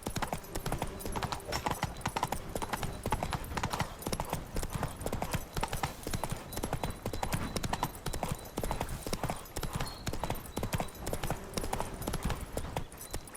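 Horse hooves clip-clop steadily and continuously on the ground in the video game The Witcher 3: Wild Hunt (PS5 edition), a close, even rhythm from a ridden horse with an occasional faint whinny.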